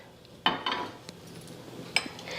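A cooking pot is set down on a stove for making pea and flattened-rice cutlets, giving two sharp metallic clanks about a second and a half apart with faint rattles between, close and quiet otherwise.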